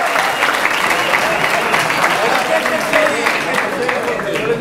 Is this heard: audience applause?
yes